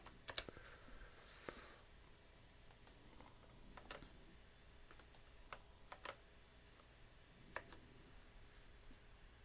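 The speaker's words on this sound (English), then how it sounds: "let's see if I type this in to ChatGPT" Quiet typing on a computer keyboard, scattered key clicks and short bursts of tapping with pauses between them, heard alone in a still room.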